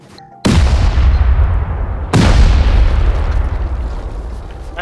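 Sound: C4 explosion in the video game Rust

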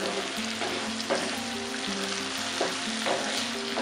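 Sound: tomatoes added and stirred into frying ginger-garlic mixture

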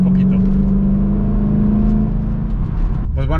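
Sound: 2007 Mustang Parnelli Jones engine revving

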